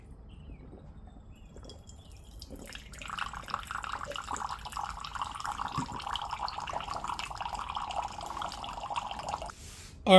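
Water flows steadily through a UV countertop reverse osmosis filter system on its first cycle, a continuous mid-pitched rush that starts about a third of the way in and runs until a sharp sound at the very end.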